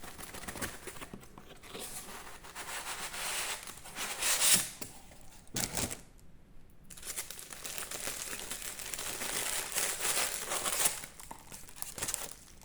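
A plastic Temu package is handled and opened, with close, continuous crinkling and crumpling for several seconds, a brief lull partway through, then more rustling.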